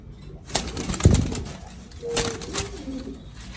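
Pigeons in a loft give low, hollow coos near the end, and a burst of wing flapping comes early on. Scattered rustling and bird activity run throughout, with no talking.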